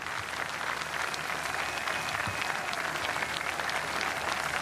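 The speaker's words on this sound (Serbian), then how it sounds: "još jednim velikim aplauzom" Sustained applause from a large audience at a political speech marking the start of Belgrade–Sarajevo highway works, a dense steady roar of clapping from start to finish with little talk over it.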